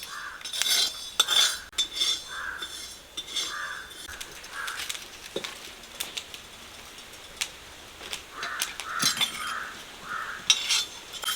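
Fenugreek seeds being dry-roasted and stirred in a metal pan for mango pickle in a village kitchen, with sharp clinking scrapes of the spoon against the pan in irregular bursts, plus faint birds in the background.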